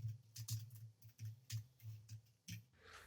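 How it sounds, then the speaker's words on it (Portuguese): Keys tapped on a computer keyboard while a terminal command is entered, a short uneven run of soft clicks at close range in a quiet room, no voice. "Eu escrevo cd, eu escrevo o nome da pasta que eu quero"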